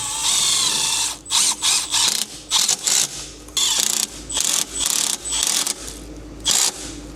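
A power drill drives self-tapping screws into a 2025 Jeep Grand Cherokee, with repeated short bursts of whirring and ratcheting separated by brief pauses, close and fairly loud.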